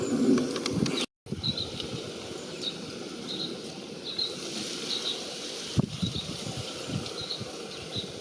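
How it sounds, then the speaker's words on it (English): House sparrows calling from a small hedge in early spring, repeated faint chirps scattered over a steady outdoor rumble with a low droning background. "There's actually loads of sparrows here in this little hedge."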